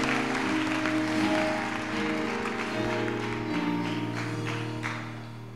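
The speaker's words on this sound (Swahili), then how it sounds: "Mpe Yesu makofi." A church congregation claps in sustained, even applause lasting several seconds, with steady musical tones droning underneath and fading slightly at the end.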